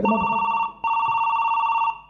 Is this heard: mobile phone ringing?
yes